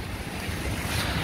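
Sea waves washing in outdoors during a rainy spell in Kuwait, a soft continuous surf wash mixed with wind buffeting the microphone, heard alone and fairly faint.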